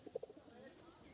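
Pigeons gathering to feed give a few soft, quick coos in a short cluster at the start, faint and distant over a quiet background hum.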